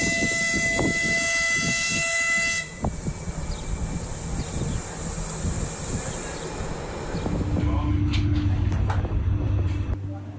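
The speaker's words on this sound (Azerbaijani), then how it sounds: "qərb istiqamətində hərəkət edən qatar düz 5 saat yarımdan sonra sonuncu Qazax stansiyasına çatdı" A high-speed passenger train heading west toward Qazax in Azerbaijan sounds a long tonal horn, then rumbles and clatters past on the rails, with a deep engine drone rising toward the end.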